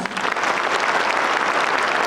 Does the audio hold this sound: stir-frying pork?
no